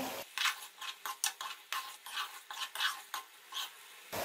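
Kofta karahi gravy is stir-fried in a pan with a rapid series of spatula scrapes, about a dozen close, rhythmic rasping strokes with faint sizzle between them and no speech.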